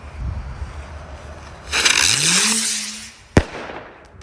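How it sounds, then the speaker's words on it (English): A stickless rocket firework launches outdoors with a rush of hiss and a rising whistle, followed a moment later by a single sharp bang. "Stickless rocket."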